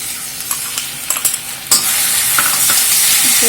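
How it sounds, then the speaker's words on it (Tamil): Chopped tomatoes hit softened onions in a hot pan over high flame for a Chettinadu dish; a few light clinks give way to a loud, steady sizzle that holds to the end. "ஃப்ளேமை கொஞ்சம் ஹை பண்ணி இதுவும் நல்லா இப்போ வதங்கணும்"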